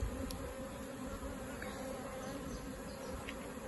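Honeybee swarm buzzing around a bougainvillea outdoors, a steady, dense hum of many wings at moderate distance, fairly quiet, with no voices.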